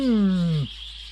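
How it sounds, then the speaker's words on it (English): A bird in The Last Door video game gives a loud, close, descending call with rich harmonics that cuts off abruptly after about half a second, leaving a faint high tone behind. "So one of you noisy birds are loud."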